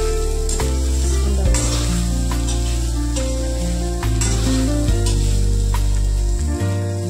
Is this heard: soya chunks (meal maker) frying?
yes